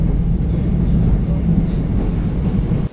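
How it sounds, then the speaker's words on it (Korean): Steady low rumble of a Seoul subway Line 1 train bound for Cheonan, a constant loud rolling drone close by with no distinct clacks. "오늘은 1호선 천안행 열차를 타고 여행을 떠납니다."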